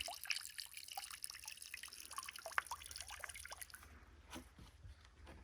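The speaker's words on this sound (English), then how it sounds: "So it's as easy as sucking up the water and then literally just passing it through the filter." River water drips and trickles through a sampling filter, a quiet close-up patter of irregular drops fading toward the end.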